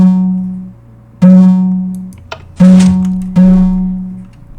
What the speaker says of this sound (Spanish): Este de aquí activa la alarma de emergencia, que la alarma de emergencia suena así.